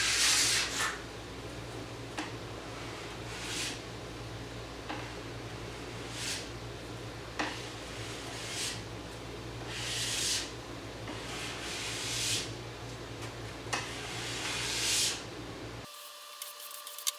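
A plastic scraper is pulled repeatedly along a snowboard base to lift off hot wax, giving steady rasping strokes over a constant background hum; the sound cuts off abruptly near the end.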